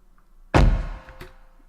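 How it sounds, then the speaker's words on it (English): A single heavy thunk of a car door slamming shut, loud and close, with a short ringing tail and a fainter knock just after. "That's the frame drum, but it's also with a car door, my mum's car, being slammed."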